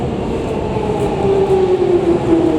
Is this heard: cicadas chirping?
no